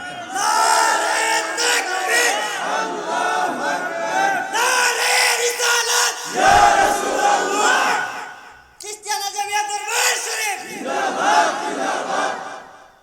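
A large crowd at an Islamic religious sermon gathering roars a slogan in unison. The loud, sustained chanting swells and dips in waves, with a brief pause before the shouting resumes.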